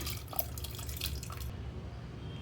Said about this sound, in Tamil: தண்ணி கொஞ்சம் சேர்த்துக்கோங்க.